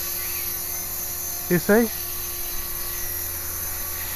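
An HK-450 RC helicopter fitted with an Assan GA-250 gyro hums with a steady high motor whine while its tail wags, and someone briefly speaks over it.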